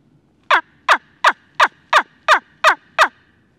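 A hand-held wingbone turkey call, used for muzzleloader turkey hunting, gives eight sharp, evenly spaced yelps over about three seconds, each a clear, bright squeak imitating a wild turkey hen.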